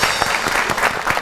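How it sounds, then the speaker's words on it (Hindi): Studio audience of a TV comedy talk show applauds a guest, continuous dense clapping from many hands, loud and steady across the whole short stretch with no talk. "आपकी बहुत सी तालियों में"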